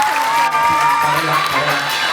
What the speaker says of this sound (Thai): ขอเสียงปรบมือให้เขาอีกครั้งหนึ่งครับ